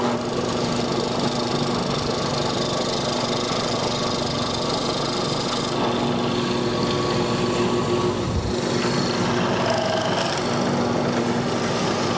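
A Nakahashi hollow chisel mortiser cuts a mortise into wood, giving a steady, loud motor whine that holds throughout with a brief dip in the low end near the end.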